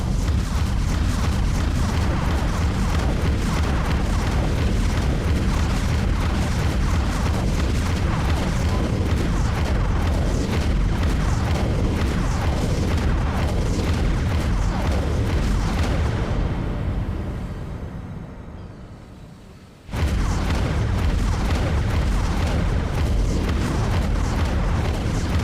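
Weapon fire and explosions in a space battle video game, a dense continuous roar of booms and blasts that fades briefly before cutting back in at full loudness, with a voice occasionally speaking over it.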